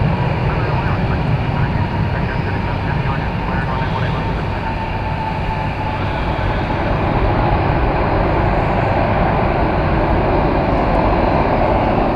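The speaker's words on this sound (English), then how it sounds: "There it is. From Houston Intercontinental George Bush Worldwide Airport. An Airbus A320." An American Airlines Airbus A320 from Houston arrives at DFW Airport, its engines producing a loud, sustained roar and rushing jet noise, with faint whining tones running through it.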